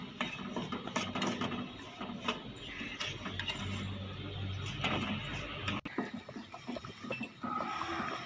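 Melted cooking chocolate and sugar are mixed for a chocolate milkshake with a utensil, producing irregular scraping, clinking and clattering close by, with brief pauses between strokes and no voices.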